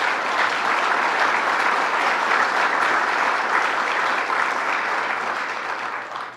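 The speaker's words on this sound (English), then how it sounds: "Let's give them a round of applause." A crowd at a Watkins Glen regional economic development announcement claps in loud, even, sustained applause that fades slightly near the end, with no voices over it.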